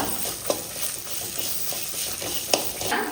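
Onions sautéing in a pan with cumin seeds, a continuous moderate sizzle punctuated by a couple of light spatula taps and stirring scrapes.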